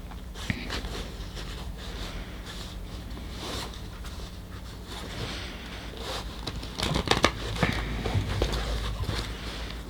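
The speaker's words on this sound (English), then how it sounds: "I'm going to go ahead and shuffle our tarot" A tarot card deck being shuffled, irregular soft riffles, flicks and rustles close by, with a few louder bursts of card noise toward the end and light background sounds.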